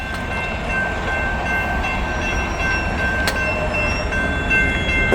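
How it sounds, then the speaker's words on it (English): A train passes the lowered gates at the Sharon Road crossing in Glendale, giving a steady, loud rumble with faint sustained horn-like tones riding above it. "We got a train."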